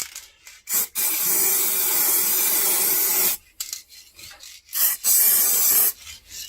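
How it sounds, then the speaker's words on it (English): A shaken spray bottle hisses paint onto a 2004 VW Touareg headlight washer cover. Three close, steady bursts come with short pauses between them, the first lasting about two and a half seconds, and no one speaks. "We're gonna shake the bottle a little bit and then spray it one more time"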